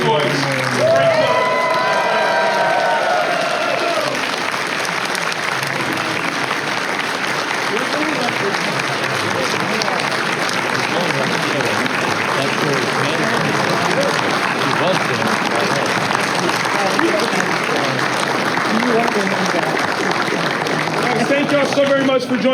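A large MegaCon convention audience at a Dark Knight Returns anniversary panel bursts into loud, sustained applause and cheering that fills the room, a few shouts rising over the dense clapping for the whole stretch.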